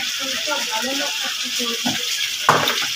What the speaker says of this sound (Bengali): এখানে মশলাটা কষাতে বসিয়েছে।